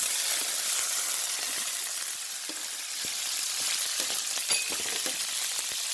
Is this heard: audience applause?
no